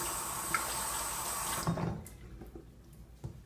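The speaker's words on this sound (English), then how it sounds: "Sorry, I'm washing my hands." Tap water runs steadily into a sink as hands are washed, then shuts off, leaving a few drips and faint splashes at close range.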